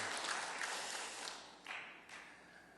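A church congregation applauding in a steady wash of clapping that gradually tapers off, heard from a moderate distance, during a Sunday worship service.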